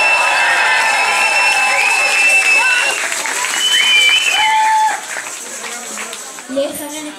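A hall crowd gives loud, sustained applause with cheers at the closing event of the 2023-2024 carnival season, greeting the 66th city youth prince. Tonal whistles or music ring over the clapping, which thins and fades after about five seconds.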